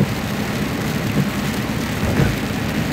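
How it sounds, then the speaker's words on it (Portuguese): Steady rain falls in Betânia, in the Sertão de Pernambuco region of Brazil, a continuous dense hiss of drops that stays even and close for the whole stretch, with no voices. "Chuva maravilhosa aqui, ó!"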